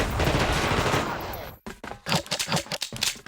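Rapid automatic gunfire from The Thing: Remastered poured into a turret, a sustained loud burst followed by a string of sharper separate shots.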